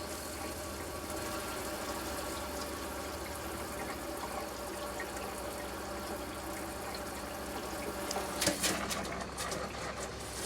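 A water pump runs inside a vintage 1957 Airstream trailer, giving a steady pulsing mechanical drone with water noise and a brief louder burst near the end.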